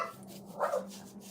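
A dog indoors gives a single short, muffled bark in a room, fairly faint and brief against quiet background hum, with no talking.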